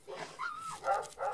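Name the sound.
dog barking in a horror film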